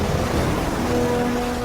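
Winter storm waves crash onto a seashore in a loud, continuous, roaring wash of surf with no voices.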